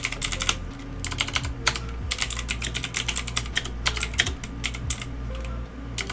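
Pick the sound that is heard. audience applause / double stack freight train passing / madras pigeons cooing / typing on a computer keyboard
typing on a computer keyboard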